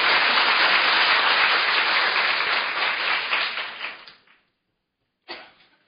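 An audience at an opening ceremony claps loudly to welcome a National Assembly member. The applause is close and full for about four seconds, then fades to silence, and a short burst of clapping returns near the end.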